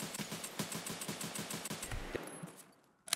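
Automatic gunfire in the Escape from Tarkov video game on the Shoreline map, a rapid burst of close shots in steady rhythm that stops after about two seconds, followed by a brief sharp sound at the end.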